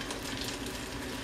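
Baccala fish cakes fry in a pan with a steady, dense sizzle and light crackle, close up and continuous with no talking.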